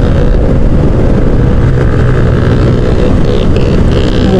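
A motorcycle with a modified exhaust roars loud and steady, its engine drone continuous and close throughout with no pauses.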